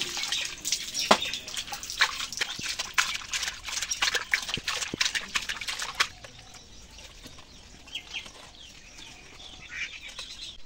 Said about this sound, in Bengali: এইভাবে কয়েকটা ধোয়া দিলেই মাছগুলো একদম ক্লিয়ার হয়ে যাবে।